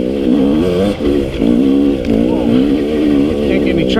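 A 2018 KTM 250 XC W TPI dirt bike in second gear climbs a rocky, loose, muddy hill, its two-stroke engine revving loud and close with brief dips in pitch as the throttle changes.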